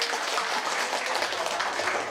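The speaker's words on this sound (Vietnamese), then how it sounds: "xin được trân trọng kính mời toàn thể quý vị chúng ta cùng dành những tràng pháo tay để chúng ta cùng chúc mừng nha" Applause from guests at a wedding ceremony, a soft continuous wash of many hands clapping together, distant and fairly quiet for a couple of seconds with no speech over it.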